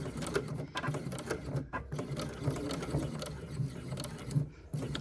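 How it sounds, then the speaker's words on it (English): A sewing machine stitches back and forth across the strap of a clear vinyl phone pouch, a close rapid mechanical whirring with rhythmic clatter and brief stops between passes. "Just going to sew across the strap, back and forth."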